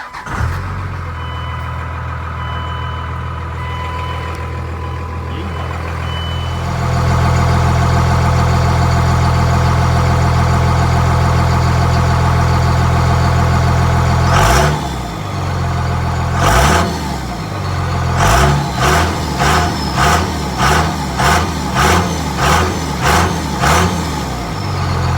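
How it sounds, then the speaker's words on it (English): A truck engine with a 4-inch-exhaust-bound turbo setup on its stock exhaust idles steadily, then a held rev builds, followed by a series of rhythmic throttle blips each ending in loud turbo whooshes and flutter, close and loud with no talk. "let's turn on the power, and we'll do a test tone for the exhaust system that's currently installed"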